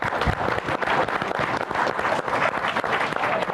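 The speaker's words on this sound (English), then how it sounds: "A quick round of applause." Applause from a live audience at a community roundtable panel in Los Angeles fills the room in a steady, dense wash of many hands clapping for several seconds, close and fairly loud.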